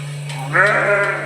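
A single sheep bleats nearby on a farm, a short wavering cry over a steady low electrical hum.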